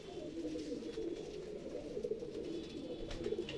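Madrasi pigeons coo softly and continuously in a quiet setting, a low throaty burbling that rises and falls in gentle pulses.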